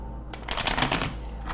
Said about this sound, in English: Let me shuffle that again because that was left behind.